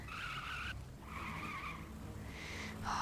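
A car in the Lego Harry Potter video game drives and skids, with repeated squealing tire tones over a low engine rumble, fairly quiet and without talk.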